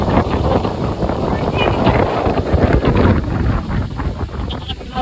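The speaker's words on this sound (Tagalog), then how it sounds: "lakas ang hangin, oh" Strong, roaring wind gusts buffet the microphone at a campsite where people hold down their tents, a loud continuous rush with voices faintly underneath.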